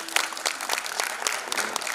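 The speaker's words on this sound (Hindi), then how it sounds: "मैं दाद चाहूँगा तालियों से आप सबकी" An audience at a live Hindi music concert applauds steadily, a dense, moderately loud wash of clapping throughout.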